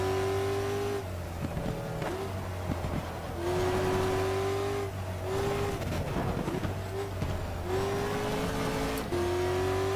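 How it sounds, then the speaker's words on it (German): Corvette engine roaring around the Grobnik circuit in Croatia in the racing game GTR 2, with a steady loud drone that rises through repeated upshifts and revs across the whole stretch, no talk. "mit der Corvette kann man gut fahren"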